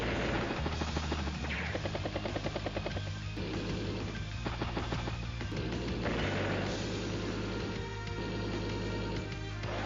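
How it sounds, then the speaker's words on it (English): Battlecopter attack on a tank in Advance Wars: Days of Ruin, a dense continuous din of rotor chop, rapid gunfire and explosions layered over game music, loud and unbroken throughout. "Battlecopter hits tank."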